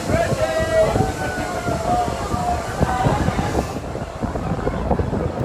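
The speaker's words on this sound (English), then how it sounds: "As you can hear, the day we rode was extremely windy." Strong wind roars and buffets the microphone continuously on the Pixar Pal-a-Round Ferris wheel ride, with a mechanical drone and faint tonal whines underneath.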